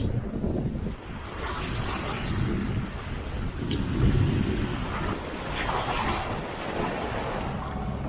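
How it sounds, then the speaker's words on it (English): Wind blows over a sailboat at sea near Dixon Entrance on the Inside Passage, a constant low buffeting rumble against the microphone that swells and eases, with faint higher whistles. There is no talking. "The wind has been increasing steadily."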